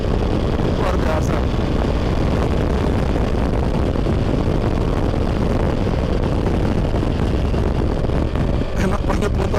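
A 2022 Triumph Tiger 1200 Rally Pro motorcycle cruises fast in third gear, its engine drone buried in a constant loud roar of wind rushing past the rider.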